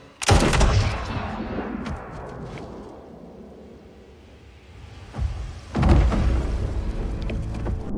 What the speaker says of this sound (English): It can create cinematic, realistic scenes like this zombie shooting scene.